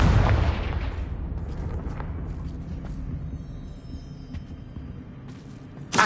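Confringo blasting spell exploding in a video game, one loud booming burst at the start that rolls off into a long fading rumble, with a smaller pop at the very end.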